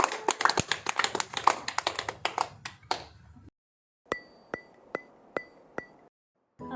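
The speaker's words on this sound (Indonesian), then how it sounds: "Kita tepuk tangan dulu." A class of students in an Indonesian arts lesson claps hands in a patterned routine. A quick, busy flurry of claps stops briefly, then a few sharp, evenly spaced single claps follow, each crisp and distinct.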